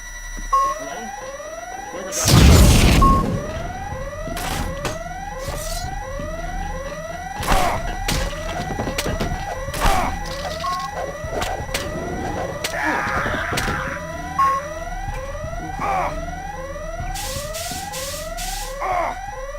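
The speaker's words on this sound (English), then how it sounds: "Guess I'm setting off the alarms." Alarms blare in the Deus Ex video game, a repeating rising electronic wail cycling steadily for many seconds, mixed with occasional gunshot-like bangs and other game effects.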